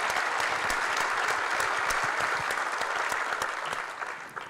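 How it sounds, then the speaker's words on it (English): Steady applause from the audience at a mayor's breakfast, a broad, even wash of many hands clapping that holds at full strength and eases slightly toward the end. "I think we should give them a round of applause"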